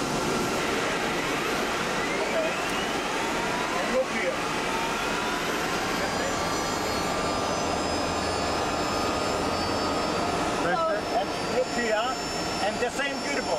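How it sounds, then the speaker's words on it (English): A Mi-24 helicopter's turbine engine spools up with a rising whine and steady roar close by, tones climbing gradually over a constant rushing noise, with people talking intermittently over it. "We start engine."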